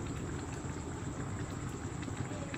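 A pot of dal boils close by with a dense, steady bubbling and churning that stays even throughout, with no voices.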